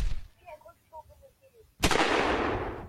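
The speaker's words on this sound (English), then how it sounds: "he's already firing shots" A single sharp, loud gunshot with a long echoing tail cracks out in a shooter video game, after quieter tonal game sounds and a voice in the moments before.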